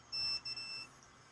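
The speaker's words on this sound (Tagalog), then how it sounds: "Ayan, nag-buzzer siya" A faint, thin electronic beep from a digital multimeter's continuity buzzer on the ohms setting sounds briefly, cutting out and returning once in quick succession against a quiet background.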